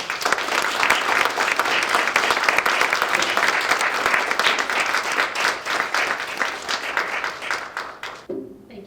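Audience applauding after a talk at a League of Women Voters event on misinformation, with sustained, dense, even clapping that cuts off near the end.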